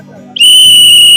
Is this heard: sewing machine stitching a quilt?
no